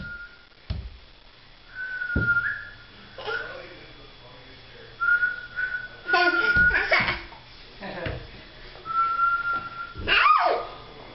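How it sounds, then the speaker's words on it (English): Short tonal whistles repeat several times among dog whimpers, yips and people talking and laughing nearby in a hallway. "He likes the whistling."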